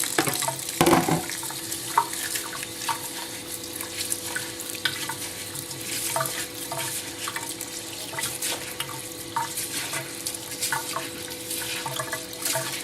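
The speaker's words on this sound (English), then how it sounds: "And now we're going to quickly rinse our rice." Tap water runs steadily into a sink while two cups of parboiled rice are rinsed, with the grains swishing and clattering intermittently against the bowl, close and alone.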